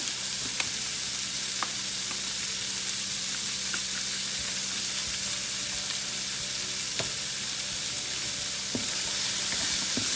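Vegetable rice stirred in a pan with black pepper and garlic powder, giving a steady close sizzle and frying hiss with scattered scraping clicks of a utensil throughout.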